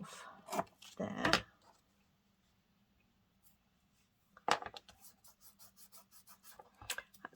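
Scissors snip through washi tape at a crafting table, with a few sharp cuts near the start. After a long quiet pause comes a rapid series of small crisp snips and rustles, all close and soft.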